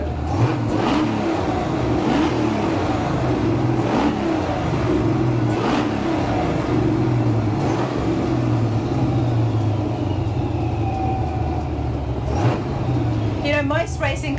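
A turbocharged GMC Syclone pickup truck engine pulls hard from inside the cab, a steady loud engine roar with repeated surges as it accelerates, with people talking over it throughout.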